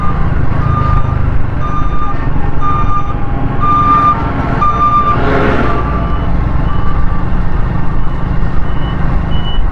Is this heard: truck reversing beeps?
yes